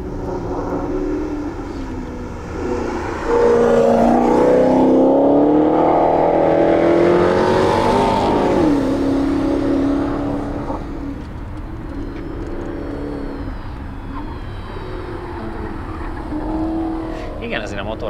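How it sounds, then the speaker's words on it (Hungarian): A Maserati GranTurismo engine accelerates on a race track, a loud rising roar that swells to a peak before easing off into a lower drone as it passes at a distance. "azért a motorhang az kívülről is az"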